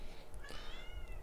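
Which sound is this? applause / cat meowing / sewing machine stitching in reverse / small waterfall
cat meowing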